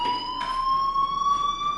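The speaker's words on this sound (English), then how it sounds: "Hey, do you hear that fire alarm?" A fire alarm rings in the video game Life is Strange, a steady, high, piercing electronic tone with faint pulsing bursts behind it, sustained throughout with no talking.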